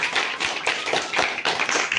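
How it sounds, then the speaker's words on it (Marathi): An audience at a school inauguration ceremony in a village school claps loudly and steadily for two visiting guests, a dense sustained clatter of many hands that stays strong throughout. "हे साहेब आणि मी यांच्यासाठी जोरात एक टाळ्या वाजवावी"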